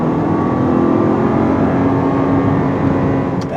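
A 2019 VW Atlas SE with front-wheel drive accelerates on the road, its engine drone loud and steady from inside the cabin, rising slightly over a few seconds.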